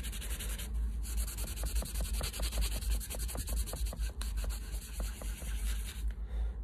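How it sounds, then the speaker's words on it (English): Coarse side of a cleaning wipe scrubbed back and forth over a rusty saw, a close, quiet, rhythmic rasping with repeated strokes. "let's try the coarse side on the rusty part of the saw"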